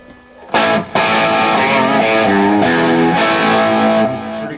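An electric guitar played through distortion strums a few heavy, sustained chords after a brief gap, loud and close with rich buzzing overtones, ringing out together and then fading at the end.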